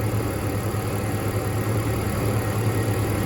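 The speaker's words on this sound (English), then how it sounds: "exhaust pulses from all 6 cylinders on this 97 Jeep Grand Cherokee that we're working on" A 1997 Jeep Grand Cherokee six-cylinder engine runs steadily nearby, its exhaust pulses forming a low, even throb under a constant broadband hum, with no voices.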